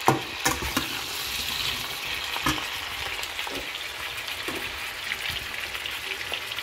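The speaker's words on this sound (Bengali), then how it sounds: "এটা একটু ভালো করে মেশাতে হবে, একটু ভাজা ভাজা হবে।" Dry fish (lote shutki) being stirred and fried in a pan, a moderate close sizzle broken by repeated scraping and clinking of the spatula against the pan.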